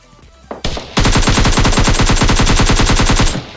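Rapid automatic fire from an AKM rifle in a video game rattles out in one loud, continuous burst lasting nearly three seconds, after a couple of short, sharp shots.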